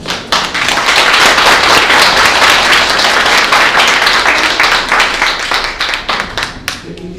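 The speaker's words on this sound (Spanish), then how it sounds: "¿Cuánto le pueden dar un aplauso al Señor?" A church congregation bursts into loud, sustained applause, dense clapping from many hands filling the room for several seconds before thinning out at the end.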